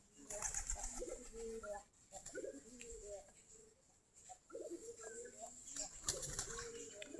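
Domestic Giribaz pigeons feed in a loft of about 45 pairs in the morning, giving soft, repeated coos and bursts of wing flapping close by, with rustling between them and a voice talking at times.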